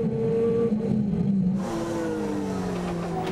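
Touring race car at the Leinster Trophy meeting of the Irish Touring Car Championship, engine revving hard then dropping pitch on a gear shift before climbing again, loud and close with a steady roar throughout.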